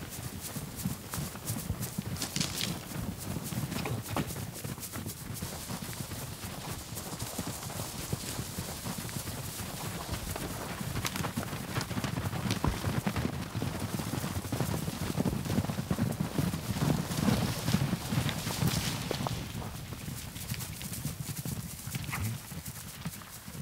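Hooves of Przewalski's wild horses clip-clop in a dense, continuous patter, moderately close, under a steady outdoor wash of background noise.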